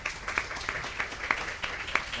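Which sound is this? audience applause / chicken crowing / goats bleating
audience applause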